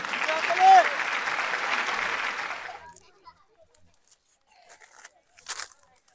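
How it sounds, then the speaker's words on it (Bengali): Applause from a crowd at an outdoor prize-giving game, where a winner receives flour, vermicelli and sugar. The clapping is loud and steady for about three seconds, then stops, leaving faint scattered sounds and brief voices. "ভাইয়ের জন্য একটা হাততালি হয়ে যাক।"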